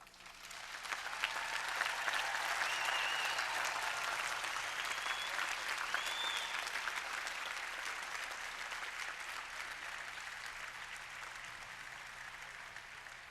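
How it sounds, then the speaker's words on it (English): Audience applause at an MIT commencement ceremony in 1989, a broad, distant wash of crowd clapping that swells quickly and then holds steady, faint and reverberant across a large outdoor gathering. "I would like to give you a moment to applaud your families who have supported you all these years"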